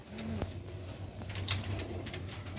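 Young Sialkoti and Ferozpuri pigeons coo in a low, steady murmur, with a few brief sharp noises and faint chirps mixed in, and no one speaking.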